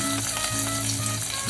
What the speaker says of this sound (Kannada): ಈರುಳ್ಳಿ ಗೋಲ್ಡನ್ ಬ್ರೌನ್ ಬರೋ ತನಕ ಚೆನ್ನಾಗಿ ಫ್ರೈ ಮಾಡ್ಕೊಬೇಕು ಮೀಡಿಯಮ್ ಫ್ಲೇಮಲ್ಲಿ